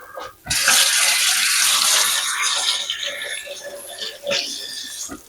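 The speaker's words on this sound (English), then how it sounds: "Let me rinse my hands." Hands are rinsed under a running kitchen tap. Splashing water starts suddenly and carries on steadily close by, then tapers off, with a brief clatter near the end.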